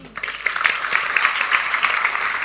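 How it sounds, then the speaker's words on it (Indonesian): A church congregation applauds during a sermon, with dense, steady clapping from many hands that carries on evenly throughout. "Tepuk tangan untuk Tuhan."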